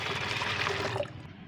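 Water pours into a container to mix a plant-nutrient solution, a steady splashing trickle close by that tapers off toward the end, with no talk.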